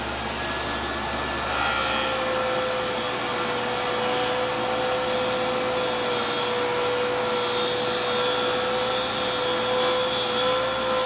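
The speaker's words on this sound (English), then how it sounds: "And I'll just kind of buff and polish this" A JoolTool rotary tool buffs and polishes a piece with a scratch eraser, giving a continuous close motor whir and airy grinding hiss that stays steady for the whole stretch, with no speech.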